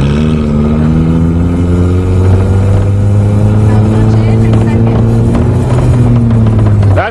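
A learner gives a manual car gas, and its engine drones loudly and steadily with a slowly rising pitch. The revving holds for about seven seconds, close up inside the cabin.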